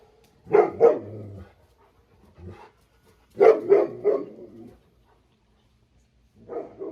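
A dog barks in short bursts: a quick pair, then a cluster of three a few seconds later, then another bark, with quiet gaps between.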